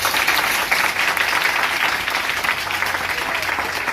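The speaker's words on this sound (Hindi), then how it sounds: "यीशु मसीह के नाम में ताली बजाया करो" Church congregation clapping steadily and loudly throughout, a dense sustained wash of applause with no pauses.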